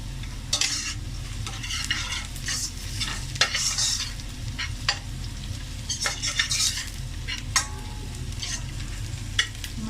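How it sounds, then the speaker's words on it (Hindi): Ginger and garlic sizzling and sautéing in a pan while a utensil stirs them, with scraping and clinks at irregular intervals. "थोड़ा सा इसको अदरक लहसुन को भी हम सौते करेंगे।"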